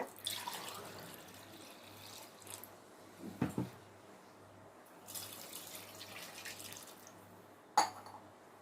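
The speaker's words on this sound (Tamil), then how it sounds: "தண்ணி எல்லாத்தையும் நம்ம இதில் ஊற்றிடலாம்" Water trickles and splashes into a cooking pot in a few separate pours, fairly quiet and close, with a low steady hum underneath.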